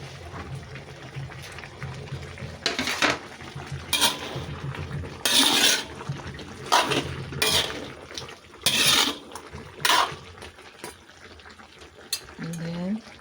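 Squid simmers in a pot of boiling water as a utensil stirs and clatters against the pot in repeated bursts, over a low bubbling bed, with a person speaking briefly.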